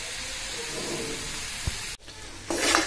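Semai pulao being stirred in a pan over reduced heat after salt and sugar go in, with a continuous soft sizzle and hiss, a brief thump, and a louder scraping stir near the end.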